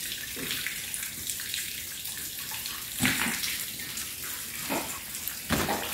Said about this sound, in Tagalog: Binabagsakan ng tubig.